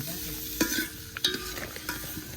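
Tomatoes go into a hot pan for a giant family-pack batch of Maggi noodles, producing a close sizzle with several sharp scraping stirs and clatters of a spoon.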